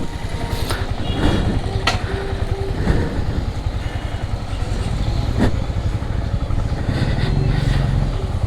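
Motorcycle ride on a road from Bandarban toward Thanchi: a continuous engine drone with road and wind rumble, steady and fairly loud throughout, close to the rider.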